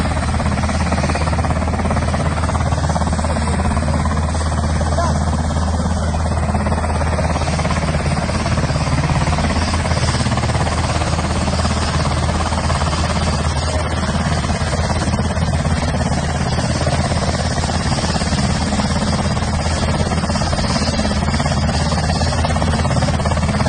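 An Israeli army helicopter carrying wounded soldiers, its steady rotor and engine drone loud and continuous throughout with no voices.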